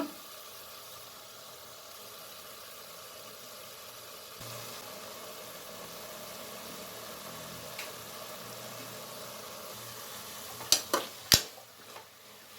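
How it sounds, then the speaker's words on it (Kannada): Vegetables for beetroot cabbage rice fry quietly in a pan with a faint, steady sizzle, then a few sharp clinks of a utensil near the end. "ಈಗ ಒಂದು 5 ನಿಮಿಷ ಫ್ರೈ ಮಾಡ್ತಿದ್ದೀನಿ"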